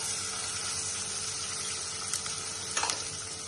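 Finely chopped onion frying in a pan with turmeric, asafoetida and green chillies for prawn rice gives a steady, even sizzle throughout, with a few light stirring clicks near the end.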